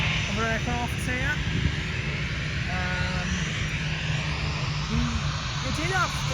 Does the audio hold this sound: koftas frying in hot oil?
no